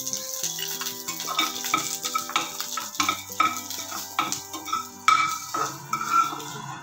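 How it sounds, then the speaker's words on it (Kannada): Mustard seeds, a dried red chilli, curry leaves and turmeric crackle and sizzle in hot oil for a chutney tempering, while a metal spoon clinks and scrapes against the pan in irregular strokes. "ನೋಡಿ ಚಟ್ನಿಗೆ ಒಗ್ಗರಣೆ ಕೊಡ್ತಾಯಿದ್ದೀನಿ"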